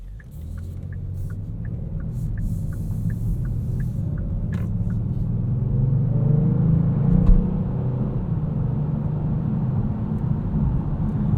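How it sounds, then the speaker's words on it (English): A 2022 Kia Stinger GT2 AWD with a V6 accelerates hard, heard from inside as a deep, rising engine rumble with road noise that swells and holds steady. It is loud and continuous, with no talk. "you put your foot down and it really pulls hard"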